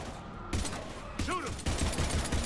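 Sustained gunfire in the video game Mass Effect 3 during heavy combat, dense bursts of shots starting abruptly with a voice briefly heard over the fire.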